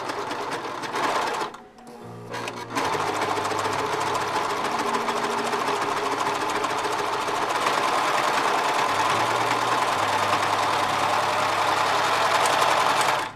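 A Brother 1034D serger sewing stretch fabric gives a fast, even mechanical whirr that runs steadily after a brief pause near the start. It is loud and close, with no voices.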